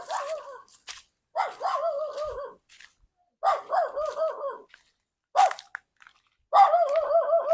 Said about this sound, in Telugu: కుక్కలు ఎడుతున్నాయి